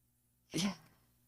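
A single short sneeze, fairly close and moderately loud, rising out of near silence in a quiet room.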